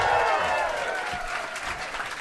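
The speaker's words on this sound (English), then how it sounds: "I'll note that some people sat out the clap on that." Audience applause fills the room at a live comedy podcast show, a short burst of clapping from the crowd that starts strong and then tapers slightly, close and fairly loud.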